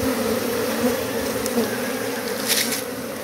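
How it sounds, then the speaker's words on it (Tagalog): Swarm of black bees clustered on a tree, a continuous close buzzing drone with brief extra whines, loud and steady with no talk. "Ito may mapapansin kayo, may mga kulay itim na bubuyog."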